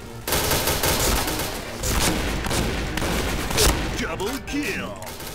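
Automatic spray fire in the online shooter Point Blank: a loud, dense, continuous fusillade of rapid gunshots with barely any gaps.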